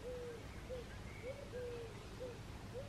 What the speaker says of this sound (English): Can you hear those birds tweeting?